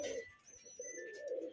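A black pigeon at a pigeon-flying contest in Rajshahi gives soft, low cooing, with two mellow coo phrases separated by a brief pause, fairly faint against quiet outdoor background noise.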